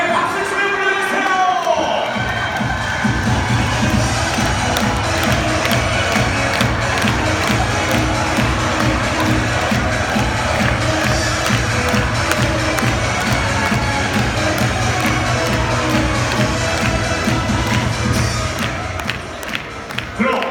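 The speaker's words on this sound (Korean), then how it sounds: "수리의 생일을 축하하는 생일 축하 노래를 함께 불러보도록 하겠습니다." A large baseball stadium crowd at a Hanwha Eagles versus Samsung Lions game sings and claps together for a birthday celebration, a dense, steady roar of many voices that stays loud from start to finish.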